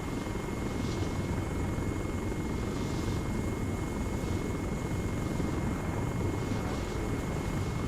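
A helicopter in Arma 3 drones steadily and loudly from start to finish, a dense, continuous rotor and engine wash with no break.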